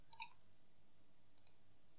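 A computer mouse clicks twice, a quick close double click followed about a second later by another pair, faint and crisp over a quiet room hum.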